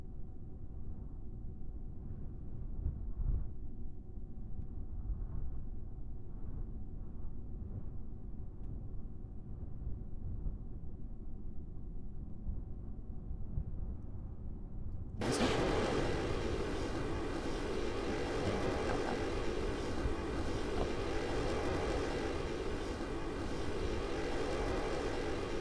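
Rocket engine throttling up in Kerbal Space Program: a low rumble first, then a sudden jump to a loud, broad, roaring thrust that holds steady for about ten seconds.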